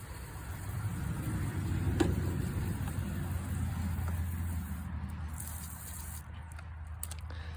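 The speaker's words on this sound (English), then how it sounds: "Spray up in this fender well too." Cleaner sprayed up into the fender well of a 1992 Ford Ranger pickup, a steady low hissing wash that runs continuously at moderate level, with no talking.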